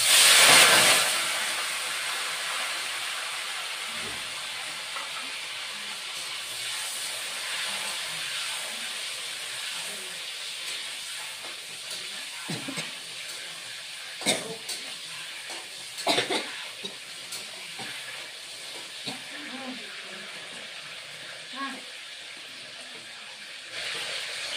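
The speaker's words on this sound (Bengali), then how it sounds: "পটলটা একটু ভেজে নিব।" Pointed gourd frying in a pan gives a steady, close hiss of sizzling oil, louder at the start, with a few sharp clinks and scrapes scattered through.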